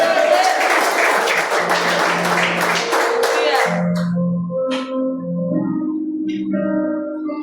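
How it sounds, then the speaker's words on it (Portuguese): A church congregation claps together in a dense, loud burst for the first few seconds. It then thins out as a preacher's voice and sustained tones take over. "Aplauda o nome do Senhor Jesus"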